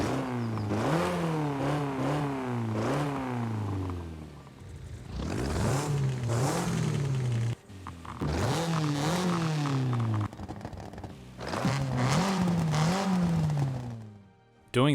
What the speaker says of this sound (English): you can get a much more meaty engine sound